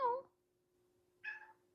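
Two short cat meows, close and fairly soft, separated by about a second of quiet with a faint steady hum underneath.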